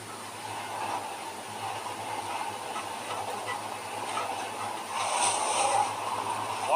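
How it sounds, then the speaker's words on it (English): A steady low rumble and hiss of a moving Minecraft train carries on throughout, with a brief rise in rattling noise near the end and no speech. "Oh my god, we're actually on a train."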